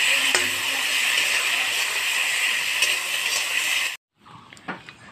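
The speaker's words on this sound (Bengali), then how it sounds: "মিক্স করে নেবো ভাজা ভাজা করে।" Ground spice paste being stir-fried in a pan for chapor ghonto curry, a loud continuous sizzle with faint stirring clicks that cuts off abruptly near the end, followed by quieter handling sounds.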